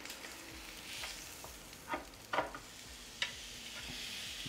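NY strip steaks sizzle quietly on a Ninja Foodi XL grill just after being flipped, a soft steady frying hiss with a few sharper crackles and pops, close by with no talking.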